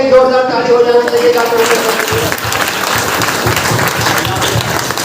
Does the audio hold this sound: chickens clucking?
no